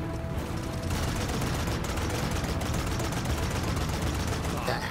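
Rapid weapon fire crackles through a Paladins battle, dense bursts of gunshots starting after a brief quieter moment and continuing as a steady barrage at moderate distance.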